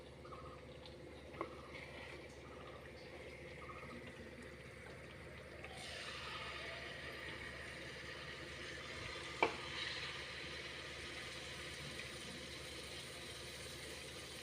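Rice-flour pitha puffing up in hot oil, a steady soft sizzle that lasts throughout, quiet and continuous, with a few small clinks over it.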